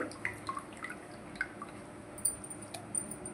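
Tamarind juice is squeezed and poured into a bowl in a home kitchen, giving soft, close drips, squishes and light liquid splashes in an irregular patter over a quiet background.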